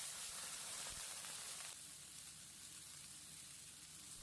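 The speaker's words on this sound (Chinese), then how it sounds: "鱼煎好以后往锅里面加入开水" Boiling water is poured into a hot pan of freshly fried yellow catfish, producing a soft, steady sizzle and hiss that eases slightly partway through; quiet, with no talking.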